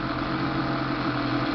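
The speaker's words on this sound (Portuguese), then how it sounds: "Esse é o 700 a gasolina." Gasoline engine of a T-Rex 700 RC helicopter running steadily, a loud continuous droning hum with no break or change in pitch throughout.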